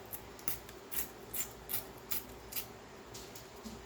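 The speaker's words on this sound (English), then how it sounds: "Tear us a little square of it." A small square of paper is torn by hand for a collage tag, with a series of soft, rhythmic ripping bursts, quiet and close.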